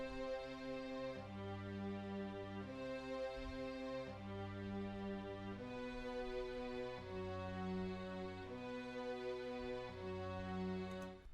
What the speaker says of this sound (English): So the next thing I added was just some strings that follow the chord.